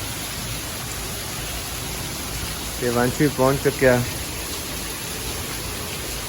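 Steady rain makes a broad, even hiss throughout, with someone speaking briefly over it in the middle.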